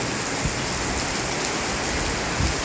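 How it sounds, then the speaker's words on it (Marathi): Heavy first-of-season downpour with thunder and lightning in Pune, a loud, dense, unbroken roar of rain drumming close by, with a couple of faint low thumps underneath. "असा मुसळधार पाऊस चालू आहे पुण्यामध्ये"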